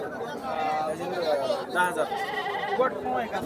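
A billy goat bleats a few times amid a busy livestock market crowd in Bhigwan, wavering cries mixed with overlapping chatter and people talking nearby.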